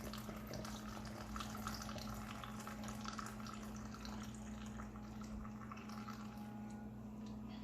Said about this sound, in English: I'm going to use a funnel to add in some water